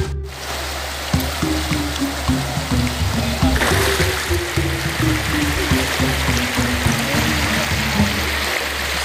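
Water flows steadily in a broad, constant rush, like a stream running nearby, with a low motor-like hum underneath and no speech.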